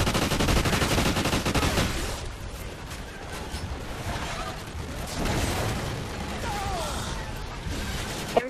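Video game gunfire in chaos mode, rapid dense bursts of shots that are loud at first, ease off, then return in waves over a busy background.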